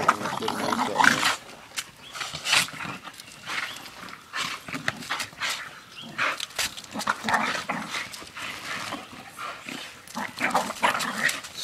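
Pit bulls fighting over a tire in a backyard, with snarling, growling and scuffling bursts that come and go close by, along with some background voices.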